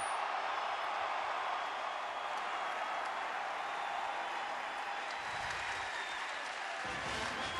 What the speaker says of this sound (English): after the applause died down